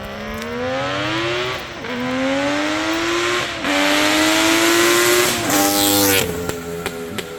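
A high-revving three-cylinder two-stroke engine on a 1972 Suzuki GT750 motorcycle screams as it accelerates through the gears, pitch climbing and dropping with each shift, loud and close.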